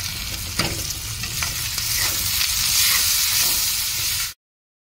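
Greens seasoned with salt and turmeric are stirred in a hot frying pan, giving a steady loud sizzle with a few scraping stir strokes, before the sound cuts off abruptly near the end.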